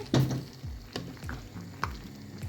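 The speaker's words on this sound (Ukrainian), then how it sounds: "Згадали про картопельку, потрібно її перемішати." Potatoes frying in a skillet are stirred, giving a few scraping, clattering strokes of the utensil against the pan over a steady soft sizzle, close up with no talking.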